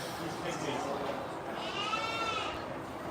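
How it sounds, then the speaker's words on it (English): Pygmy goats bleat on a farm, faint and intermittent beneath steady background noise, with a clearer drawn-out call midway. "There's goats out."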